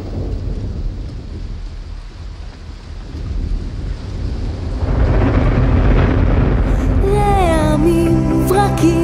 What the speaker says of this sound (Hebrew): רעמים וברקים בליל חורף קר,